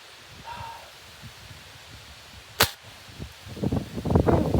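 A Crosman 1377 air pistol fires a single sharp snap close by, about halfway through. Quieter shuffling and handling noises come before it and grow afterward.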